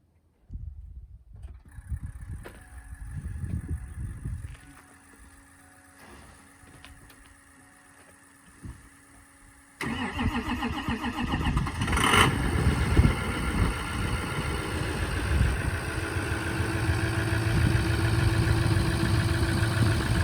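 A 6.0 Powerstroke diesel pickup with 311k miles, sitting unused for two weeks, cranks with ticking injectors before firing up, then settles into a loud, steady, rumbling idle close by.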